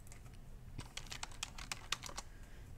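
Rapid typing on a computer keyboard to enter a folder name, a quick run of light clicky keystrokes, faint and alone with no speech.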